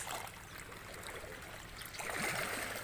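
Sea water at night churns and washes in big waves beneath a stilt house, a constant rushing roar that surges louder toward the end.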